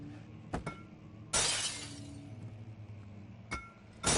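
Glass objects shattering in Amnesia: The Dark Descent, a few sharp breaking crashes with one long bright burst of splintering, clinking shards, loud and close with pauses between.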